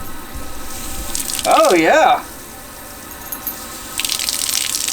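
Hot water running from a homemade shower rigged on a DIY teardrop camper at camp, a steady hiss of spray that briefly surges louder, with a person's voice and a whistling tone in the middle.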